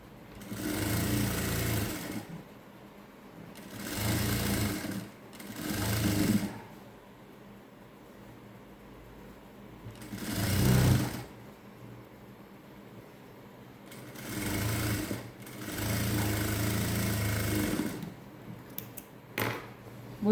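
Bursts of a sewing machine running a double stitch along the sleeve of a peplum top, roughly six separate runs of a few seconds each with quiet pauses between, close and fairly loud.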